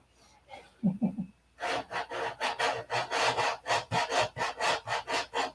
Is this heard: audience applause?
no